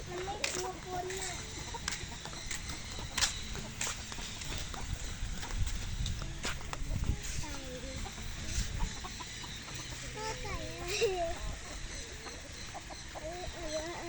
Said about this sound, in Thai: ไก่อะไร ไก่ซิลกี้อเมริกา